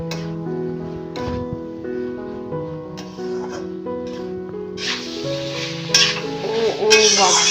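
Boiled jackfruit and potatoes stirred into frying masala in a pan, with a steady sizzle under scraping and clanking of the spoon, growing louder and brighter toward the end.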